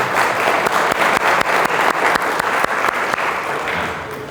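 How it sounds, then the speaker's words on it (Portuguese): Audience applause for the guests at an agribusiness finance event, a dense, steady clapping crowd sustained throughout and tapering slightly at the end. "Uma salva de palmas para os nossos convidados."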